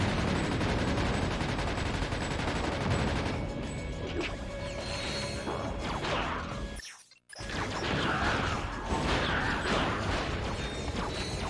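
Dual Viper guns in Ratchet: Deadlocked fire in sustained rapid bursts, loud and dense with crashing impacts, broken by a brief silent gap partway through before the barrage resumes.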